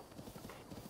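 A horse's hooves clip-clop steadily in The Legend of Zelda: Breath of the Wild, a quick, soft, rhythmic patter of hoofbeats heard close and fairly quiet.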